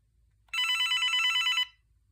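An old AT&T 9410 cordless phone with shattered antennas sounds its shrill electronic ringer once for about a second, a steady bright trilling tone, loud and close, then stops into quiet.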